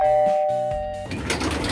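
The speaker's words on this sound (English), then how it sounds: "Doorbell's ringing." A doorbell chimes loudly with clear ringing tones that fade out, followed by muffled background noise.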